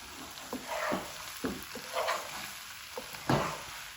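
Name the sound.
stirring spices into frying vegetables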